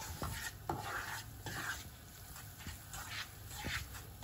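Flour being roasted and stirred in a pot over low heat for Turkish flour halva, soft repeated scraping strokes of a spoon against the pot with faint sizzling, close and quiet.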